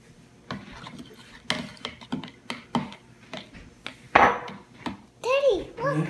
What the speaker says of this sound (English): You want to stir that like this. Dissolve all the salt in there.